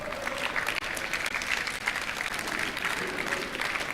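A crowd applauds at a Halo Reach esports final at ECL Blackpool 2011, with dense, sustained clapping filling the room from start to finish.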